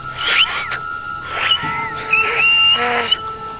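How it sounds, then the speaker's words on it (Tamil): Someone attempts to whistle in a forest, producing several short breathy, wavering whistles and squeaky pitch slides in quick uneven bursts, close and fairly loud. "லைட்டாக விசிலிச்சு பார்க்கலாமா?"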